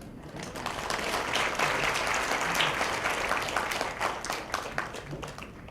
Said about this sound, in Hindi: आपकी तालियां जता रही है, बता रही है कि आपने शुभकामनाएं स्वीकार कर ली।